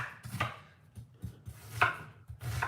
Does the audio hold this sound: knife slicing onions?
yes